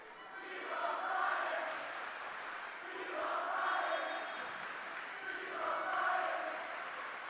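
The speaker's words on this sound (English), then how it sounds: "Chants going on in the student section for Moorhead" A high school volleyball student section chanting for Moorhead, a rhythmic swelling crowd chant rising and falling in three waves, heard at a distance in a gym with a commentator talking over it.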